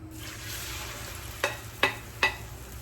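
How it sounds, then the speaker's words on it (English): Beaten eggs hit a hot pan for scrambled eggs, giving a soft background hiss and then three sharp sizzling bursts at roughly even intervals, each flaring and quickly fading. "when the egg hits the pan, it sizzles"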